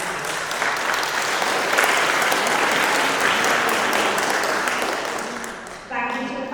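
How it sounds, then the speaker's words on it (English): Audience at a lower school graduation ceremony applauds the parents, a loud, dense and sustained round of clapping that dips near the end before a voice begins speaking. "I think that we give your parents a huge round of applause to say thank you"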